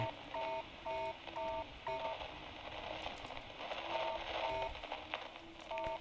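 Morse code beeps from a Roblox game: short and long tone pulses in quick clusters separated by brief gaps, steady and clear over a faint background hum.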